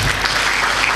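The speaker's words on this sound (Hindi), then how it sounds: "जोरदार तालियां हो जाओ" Church congregation at a Hindi-Urdu sermon breaking into loud, dense applause, a continuous burst of clapping heard up close with no speech over it.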